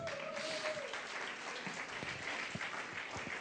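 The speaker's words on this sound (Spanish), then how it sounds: "¿Por qué no le damos un aplauso al Señor?" A church congregation applauds during a service, sustained clapping that stays moderately loud and diffuse across the room, with a brief tone near the start and a few voices underneath.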